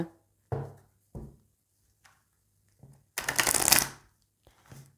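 Oracle cards are handled up close, with a few soft taps and shuffles leading to one longer riffling shuffle near the end. The setting is quiet and no one speaks.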